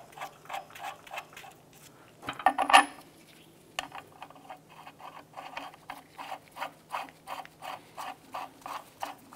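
A steel nut is spun by hand onto the control arm bolt of a 1994-2004 Chevrolet S10, giving a steady run of close, quiet metallic clicks and rasps after a brief louder clank.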